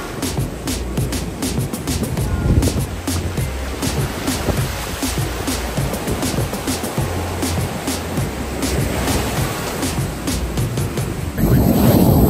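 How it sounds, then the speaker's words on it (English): Ocean waves surge and crash on a beach at Punta Cana, a loud continuous wash of intense surf with wind buffeting close by. "these waves are pretty intense"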